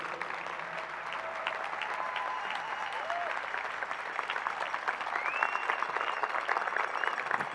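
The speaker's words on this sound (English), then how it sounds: "Let's all give them a round of applause." An audience applauding marching band students, a dense and steady clapping that swells slightly toward the end, heard from some distance in a large hall.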